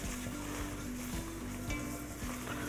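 Steady, dense sizzling of flour roasting in butter in a pan with a low continuous hum beneath, close and constant for a few seconds.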